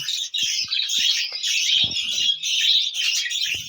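Several caged pet birds, with chicks among them, chirp and twitter continuously at close range, a dense high-pitched chorus with occasional sharper calls and faint knocks underneath.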